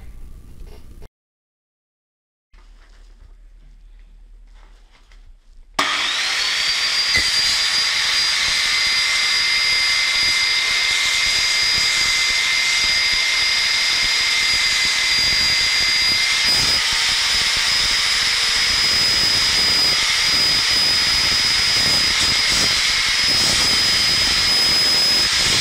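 An INTERTOOL WT 0618 circular saw, 1500 W and 5800 rpm with a 190 mm blade, starts after a few quiet seconds and cuts through 8 mm laminate. It gives a loud, sustained high-pitched whine with steady cutting noise.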